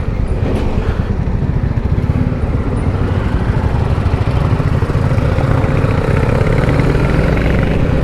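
A Royal Enfield Classic motorcycle engine thumps continuously and loudly at a steady pace on a road ride, with a constant rumble and wind noise and no break in the sound.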